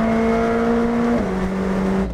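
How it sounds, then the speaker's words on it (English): A McLaren 765 sports car accelerates hard, its engine a strong steady drone that drops in pitch as it shifts up, heard loud from inside the cabin. "I have never been in a car that shoves you in the back of your seat as aggressively as this."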